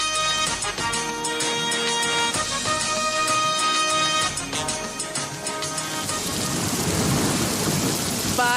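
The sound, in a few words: rain and thunderstorm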